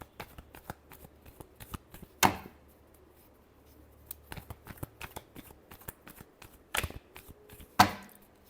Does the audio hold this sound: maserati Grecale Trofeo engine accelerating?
no